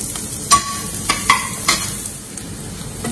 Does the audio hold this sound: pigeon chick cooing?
no